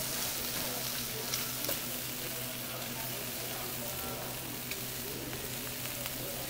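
Shrimp searing in a hot pan during pad thai cooking, a dense, loud, even sizzle that holds steady throughout with faint stirring underneath.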